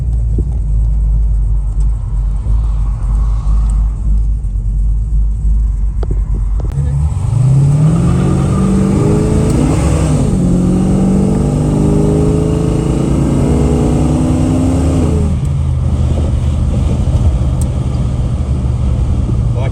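Holden Torana car accelerating onto Pretty Highway, its engine rising in pitch through the gears with a shift midway, loud and close from inside, after a stretch of steady idle rumble.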